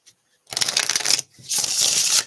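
Tarot cards are shuffled in two loud, riffling bursts of papery flutter separated by a short pause, close to the microphone with no talking.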